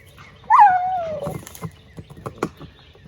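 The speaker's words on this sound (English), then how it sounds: "He is tearing the bark off that tree." A dog tears the bark off a dead tree close by, letting out a drawn-out whine before a handful of short, scattered cracking rips.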